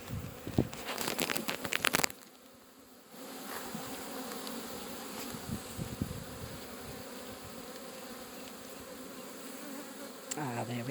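Honey bees buzz around an opened hive box during a routine apiary inspection. A steady, dense hum fills the whole clip, with close, sharp rustling and knocking at the start and faint handling sounds throughout.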